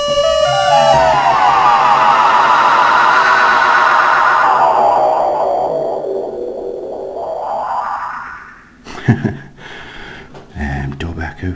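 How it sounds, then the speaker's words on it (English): A Korg Monotron Duo synthesizer plays a sweeping, wavering tone through a tape echo effect from a Korg MiniKP2, the pitch arcing up and back down before it breaks into choppy, stuttering repeats. "tape echo, that's an interesting one."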